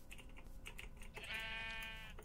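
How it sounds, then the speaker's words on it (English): A Minecraft sheep bleats from up in a tree, its wavering cry rising clearly after scattered tapping and clicking, with a steady faint hum underneath. "there was a sheep in a tree"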